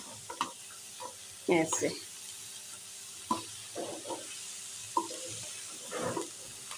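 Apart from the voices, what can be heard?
stirring samosa vegetable filling with a spoon in a pan on the stove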